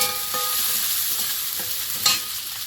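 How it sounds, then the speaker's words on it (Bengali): Chopped onion, garlic and green chili frying in hot oil for a Bengali fish curry, a loud, steady, close sizzle with a few scraping stirs of a spatula and no voices. "পেঁয়াজ কুচি আর রসুন কুচি কাঁচা লঙ্কাটাও দিয়ে দেবো"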